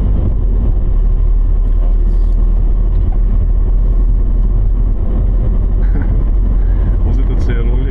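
A Mercedes car being driven with no engine oil in its engine, heard from inside as a constant loud, low rumble throughout, with someone talking over it.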